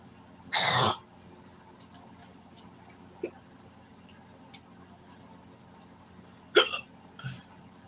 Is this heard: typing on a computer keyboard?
no